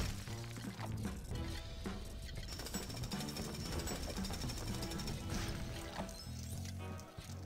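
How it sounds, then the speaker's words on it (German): Drilling in the LEGO City Undercover video game: a dense, continuous mechanical rattle like a jackhammer, loud and steady throughout, layered with game effects and music. "Moment, ich muss erst hier bohren."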